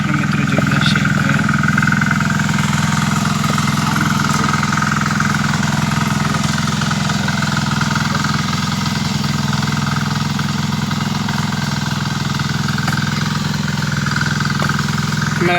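A new power weeding machine works a brinjal field, its small engine droning loud and steady throughout with a constant mechanical hum and no pauses.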